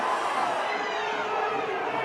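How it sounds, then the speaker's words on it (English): A football stadium crowd at a conference quarter-final roars in sustained broad disapproval after a challenge, the dense noise holding steady throughout from a distance. "Crowd not liking that, but play goes on."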